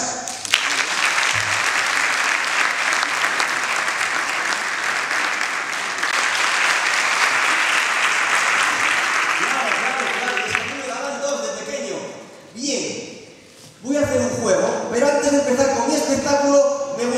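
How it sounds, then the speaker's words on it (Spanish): An audience at a live music and magic show applauds the magician's introduction, a loud sustained wash of clapping for about ten seconds that fades out, followed by someone talking over a microphone. "les pido un gran aplauso para Nacho"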